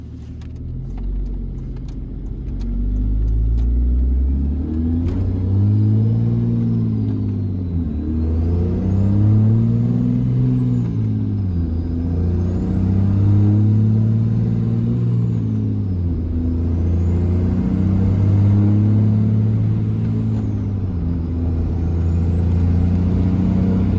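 A pickup truck with a second-gen engine swap revs up and settles repeatedly as it climbs through the gears, a deep rumbling drone that rises and falls, loud and close.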